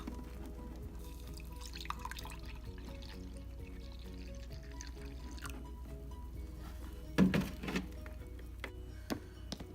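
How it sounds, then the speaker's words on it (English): A cup of water poured into a coffee smoothie mixture, a short splash and trickle near the end over a steady low background hum, with no talking. "I'm gonna add water, a cup."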